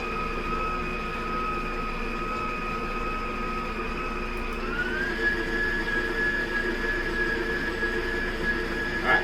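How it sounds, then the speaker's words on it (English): An electric stand mixer beats cheesecake batter in a home kitchen, a steady close motor whine that shifts up in pitch partway through and runs continuously without talk. "Continue to mix down our stuff here, so this way the mixer gets it all really good."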